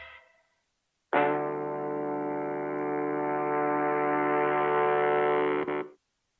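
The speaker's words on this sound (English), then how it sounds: "what I also did is grab some horns" A sustained horn-section chord sampled from a record holds steady and bright for about five seconds, then cuts off abruptly, with no talking over it.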